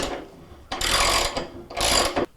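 A ratchet tightens the nut on a Whirlpool washer's inner basket in two quick rasping bursts of clicks, close and fairly loud, with a short pause between them.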